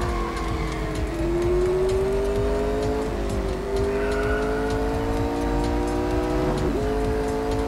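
Race car engine in the mobile racing game Real Racing 3, revving loudly and climbing in pitch through several gear shifts, with brief drops at each change and faint tire noise underneath.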